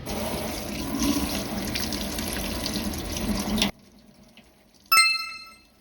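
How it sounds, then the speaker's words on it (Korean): Water runs steadily from a tap to cool a burn during first aid, a loud continuous splashing rush that stops abruptly, followed by a short clink and brief ringing. "흐르는 물에 화장 부위를 식혀준 후"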